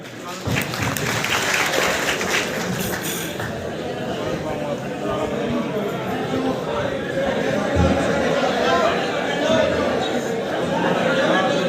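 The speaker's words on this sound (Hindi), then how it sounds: "एक बार जोरदार ताली" An outdoor crowd at a chief minister's public rally in Haryana gives a loud, sustained round of applause that runs the whole stretch, mixed with crowd chatter.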